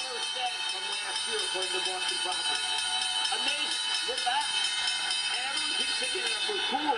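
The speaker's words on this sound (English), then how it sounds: "Oh, we got the opening bell right here." The New York Stock Exchange opening bell rings continuously and steadily for several seconds, with bright overtones, while people talk beneath it.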